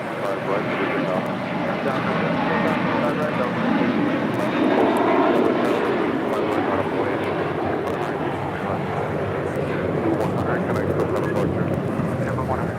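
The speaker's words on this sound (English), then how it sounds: "This is JetBlue, Flight 100, taking off to Fort Lauderdale on an A321." A JetBlue Airbus A321 takes off from LAX on runway 25 right, a loud, continuous engine roar that swells slightly and holds steady throughout, with a voice talking over it.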